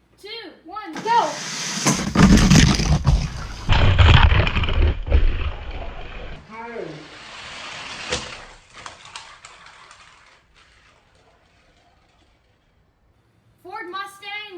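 Hot Wheels toy cars, a BMW against a 2018 Ford Mustang, race down a rain-wet track with a loud rushing, rattling roll lasting several seconds, then fading; voices are heard briefly at the start and end.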